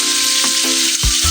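Ginger fries in hot oil with a loud, dense, continuous sizzle, heard up close, with a few soft thumps and scrapes from stirring in the pan.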